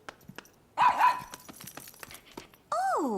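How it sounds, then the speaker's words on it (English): A cartoon puppy gives a couple of short, bright barks up close, then a longer whining yelp after a pause, with quiet room sounds between. "Come here, puppy."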